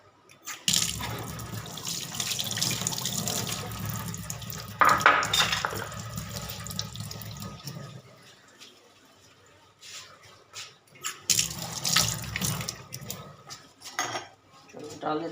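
Tap water runs into a pot of rice set to soak in a home kitchen, pouring in two spells with clinking of metal pots and utensils between them, fairly close.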